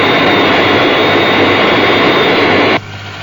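The Fireflash airliner's jet engines roar loud and steady on landing approach as a dense, close wash of sound, then cut off abruptly near the end, leaving a faint low rumble.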